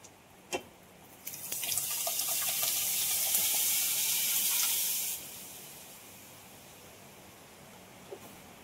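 A glass of water is poured into a pot of thick dal for sambar, a steady close splashing hiss lasting a few seconds, then fading into quiet kitchen background.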